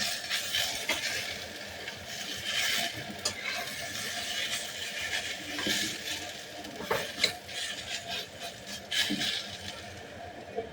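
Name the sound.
ash gourd frying with sugar in a pan, being stirred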